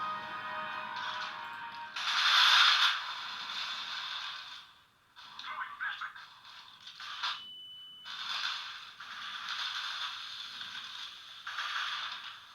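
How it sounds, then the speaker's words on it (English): Counter-Strike: Global Offensive played on the Dust 2 map at the lowest settings on a Teclast Tbook 10 tablet: clattering mechanical game sounds, bursts of bright metallic noise and a brief tonal beep, with short gaps, no talking. "Now look at Counter-Strike Global Offensive running on the lowest settings"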